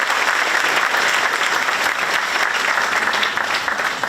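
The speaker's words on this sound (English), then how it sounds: "Please give a round of applause for those folks making this night happen for us." An audience at an eighth-grade school spring concert applauds, producing dense, steady clapping that fills the hall throughout without a break.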